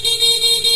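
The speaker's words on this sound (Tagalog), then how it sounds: "P-horn, stock horn." Short, loud, steady blast of a motorcycle horn, a single sustained tone with no break, close by.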